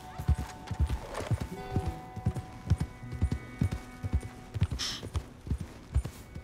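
Hooves of a horse in Red Dead Redemption 2 clip-clop in a steady, close rhythm of sharp thuds as it trots along, with a brief whinny partway through and faint game ambience behind.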